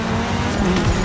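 A car crashes in the racing video game The Crew Motorfest, loud continuous engine roar with a brief tire squeal and skid sliding in near the end, dense and close with no talk.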